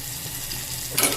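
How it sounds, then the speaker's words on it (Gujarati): Green chillies fry in a pan with salt and turmeric over a low gas flame, giving a soft, steady sizzle close by. A brief louder burst of hiss comes near the end. "ધીમા ગેસે છરવા દેવાનું મરચાં અને હલાવવું પડે"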